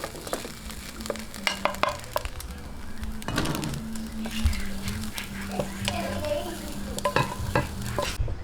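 Smoked fish (tinapa) is stirred in a frying pan: a steady sizzle runs under repeated scraping and knocking of a spatula against the pan, close and busy, with no talking.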